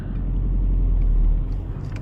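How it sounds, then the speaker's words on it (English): Cars in traffic heard from inside a VW Golf 5 on an Irish road, a loud steady low engine and road rumble throughout, with no talk. "But obviously traffic"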